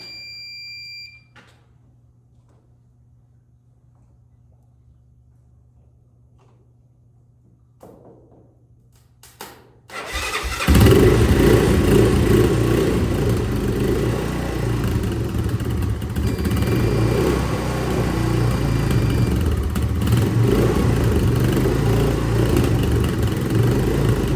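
A Honda ATV sits quiet with a faint hum, then its engine catches and settles into a loud, steady idle that carries on close by for the rest of the time.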